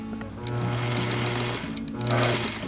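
A sewing machine stitches a rolled hem, its steady mechanical whir and rapid needle clatter running close and continuous, swelling slightly toward the end.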